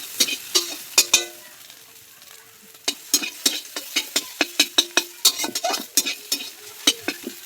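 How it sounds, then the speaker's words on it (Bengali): Two eggs with a little salt fry in oil as a spatula breaks them into crumbs, sharp metallic scrapes and taps landing in an uneven rhythm over a soft, steady sizzle, close and clear with no talking. "ডিমটাকে গুঁড়ো গুঁড়ো করে ভেজে নেব"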